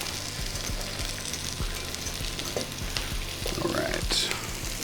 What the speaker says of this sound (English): As we continue to add our sauce and saute our potatoes